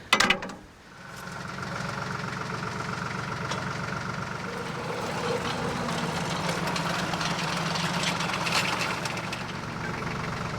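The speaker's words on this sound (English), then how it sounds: "So it looks like we're digging this with the tractor instead." A tractor engine idles with a steady low rumble and rattle after a brief sharp knock at the start, loud and close.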